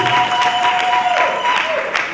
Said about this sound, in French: Est-ce qu'on peut donner une main d'acclamation pour Dieu?